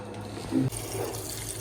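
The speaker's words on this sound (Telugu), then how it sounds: "కొంచెం హాఫ్ గ్లాస్ వాటర్ వేసుకుని ఉడకబెట్టుకోవాలి" About half a glass of water is poured into a pot of gongura leaves set to boil, a short splash and trickle of liquid heard close by over a low kitchen hum.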